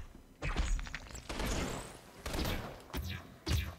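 Gunfire in the video game Infamous Second Son, several bursts of shots and thuds spread across a few seconds, fairly quiet and separated by short gaps.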